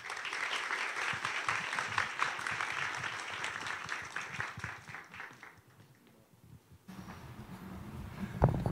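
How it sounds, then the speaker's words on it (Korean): Audience applause welcomes the director of the Asan Academy and Asan Institute at the opening of an information session for its second cohort. Dense, steady clapping fills most of the clip, fades briefly near the end, then returns with faint room noise. "큰 박수로 환영해 주시기 바랍니다"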